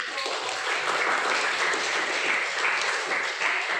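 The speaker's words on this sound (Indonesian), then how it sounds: "berikan tepuk tangan terus" Students in a classroom applaud their classmates, a continuous, fairly dense patter of clapping held at a steady level for a few seconds with faint background voices.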